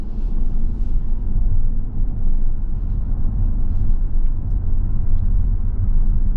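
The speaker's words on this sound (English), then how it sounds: "we're on the road in this 24 Santa Fe Limited all-wheel drive" Interior cabin sound of a 2024 Hyundai Santa Fe Limited AWD with a 2.5-liter turbo engine driving on the road: a steady, loud low rumble of engine and road noise with no talking.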